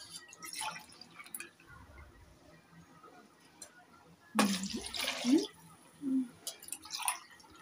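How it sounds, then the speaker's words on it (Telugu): Water is poured into a cooking pot for chicken biryani being made outdoors in heavy rain. A brief splashing pour of about a second is followed by a few drips over a soft, steady background. "కొలతగా వాటర్ వేసుకోవాలి కదండి"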